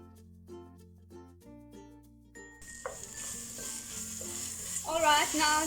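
Beef stew ingredients with tomato paste are stirred in a hot pot. A steady sizzle with stirring scrapes swells in halfway through, after a stretch of tonal music, and grows louder toward the end.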